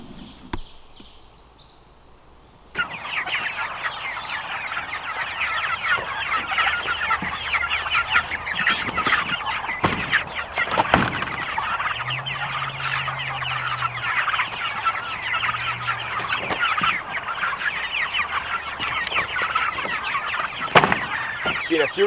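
Meat chickens clucking and murmuring in a pen outdoors, a continuous busy chorus of close clucks that starts abruptly after a quiet opening and runs steadily, with a few louder squawks.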